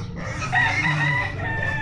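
Backyard farm chickens clucking and calling in a busy coop, with a stretched crowing note in the middle, fairly close and steady throughout.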